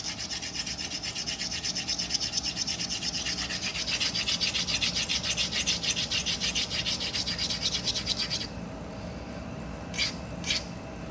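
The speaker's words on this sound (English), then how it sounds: "Now you can see where I've ground on those little micro ridges." A flint edge is abraded across its micro ridges during knapping, making a steady run of fast, close rasping strokes that stop abruptly, followed by two brief scrapes.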